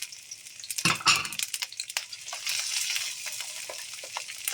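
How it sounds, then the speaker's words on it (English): Chopped fresh garlic, white onion and spring onion stalks sizzling in three tablespoons of oil over low heat for soy sauce noodles, a close, loud hiss with a burst of stirring and clinks as everything is moved around. "on low heat, I am going to saute this a little"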